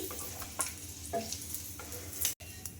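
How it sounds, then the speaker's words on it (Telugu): Food fries in oil in a kadai, likely butter naan pieces, with a steady low sizzle and a few light stirring clinks and scrapes spread through the short stretch. "వీటిని అయితే ఒక టూ మినిట్స్ ఫ్రై చేసుకుందామండి"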